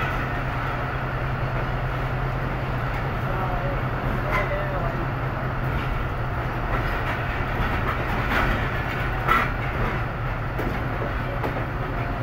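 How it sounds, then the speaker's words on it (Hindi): Jaffar Express pulls out of Rawalpindi railway station, a steady low rumble of the moving train with faint rhythmic wheel clatter and a few brief knocks and squeaks, heard from inside over continuous background noise. "हमारी ट्रेन रावलपिंडी रेलवे स्टेशन से रवाना हो रही है"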